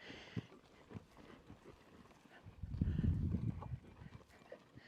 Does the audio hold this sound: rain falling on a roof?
no